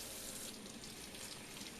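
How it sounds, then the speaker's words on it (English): Tap water runs steadily for rinsing a vinyl record, a faint, even hiss of flowing water with no other sounds. "Turn your water back on over here."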